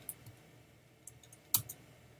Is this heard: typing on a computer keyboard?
yes